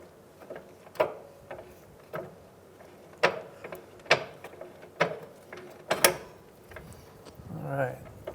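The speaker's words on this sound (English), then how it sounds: "our 17 millimeter socket. Let's see if we can get that bolt or that nut to come free." A 17 mm socket on a ratchet works loose the nut of a front sway bar link on a 2007-2015 Mazda CX-9, giving irregular sharp metallic clicks and knocks close by, with a voice talking between them.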